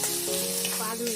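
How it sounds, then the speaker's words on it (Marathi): Finely ground masala paste sautés in oil in a pan for a spicy tender jackfruit dish, a continuous close sizzle with faint tonal hum and light stirring. "त्याच्यात आम्ही असं वाटण घालूया बारीक केलेलं"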